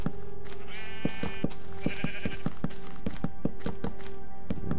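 Sheep bleat repeatedly in Minecraft over blocky thunks and footstep taps while the player wanders a field.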